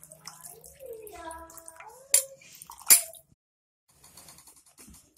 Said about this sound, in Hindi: पानी डाल देंगे ऊपर से थोड़ा सा, ताकि विनेगर का जो खट्टापन है वो भी निकल जाए